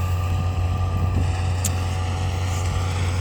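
A sugarcane harvester running in a cane field, its engine a steady, loud, low drone with constant broadband roar and no pauses, heard close without talk.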